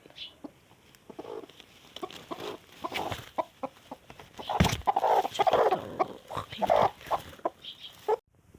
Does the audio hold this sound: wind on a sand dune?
no